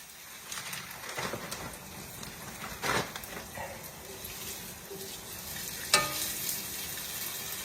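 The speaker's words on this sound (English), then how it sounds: "in it goes with a nice sizzle" Beef and broccoli stir fry sizzles and crackles in a hot pan, with a few louder spits and scraping sounds of stirring, close by with no speech.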